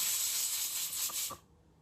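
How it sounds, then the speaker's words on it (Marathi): A pressure cooker of toor dal lets off a loud steady steam hiss close by, which cuts off abruptly after about a second and a half. "कुकरच्या शिट्ट्या होतात कारण की मी तूर डाळ लावली"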